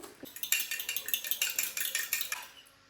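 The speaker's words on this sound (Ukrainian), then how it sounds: "три яєчка, збиваю їх виличкою" Rapid rhythmic clinking of a fork against a glass or bowl while whisking three eggs, steady quick strokes up close, tapering off at the end.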